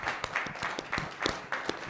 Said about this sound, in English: give applause to our panelists for